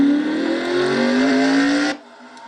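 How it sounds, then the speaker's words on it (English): A race car in a racing video game drops into gear and accelerates, its engine note climbing steadily in pitch for about two seconds before cutting off sharply to a low idle hum. "You heard Trey put it in gear and go."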